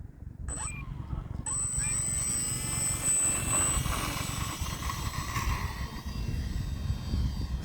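An E-flite Valiant 1.3m radio-controlled airplane flies overhead with a steady high-pitched electric motor whine and propeller drone, shifting pitch as it passes.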